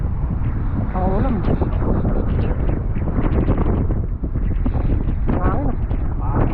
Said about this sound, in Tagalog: Ang hangin, ah.